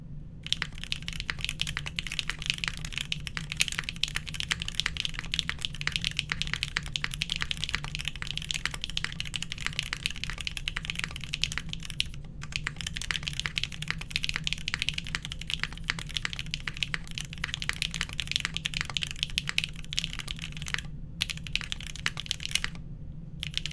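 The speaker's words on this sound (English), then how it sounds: "So this is granite switches on aluminum, no foams or anything" Fast continuous typing on a mechanical keyboard with granite switches, GMK keycaps and an aluminum case without foam, dense close clacking keystrokes in a steady stream with a few brief pauses.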